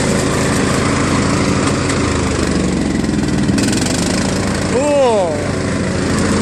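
A John Deere LA105 lawn tractor engine runs at a steady, loud idle, a continuous rumbling drone with brief talk from a person nearby partway through.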